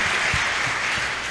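A church congregation breaks into steady, dense applause, a continuous wash of clapping that fills the room with no voices over it.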